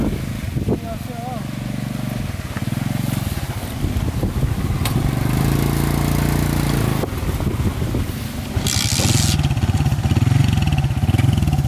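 Two motorcycles with engines running and rumbling close by under wind buffeting, the revving rising and falling as they idle and pull away, while people talk throughout.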